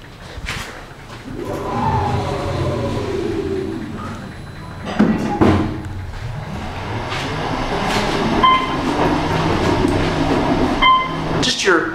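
A 2012 Otis Series 5 machine-room-less traction elevator at a medical centre descends with a low, steady rumble and whir, a clunk midway and soft chime-like tones near the end.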